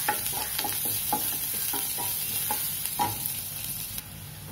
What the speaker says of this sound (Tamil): இப்போ ஆனியன் நல்லா கொஞ்சம் ஃப்ரை ஆயிடுச்சுங்க.